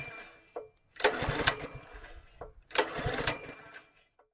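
A petrol pressure washer engine with a suspected leaking carburettor runs in two loud bursts, briefly dying back to near quiet between them.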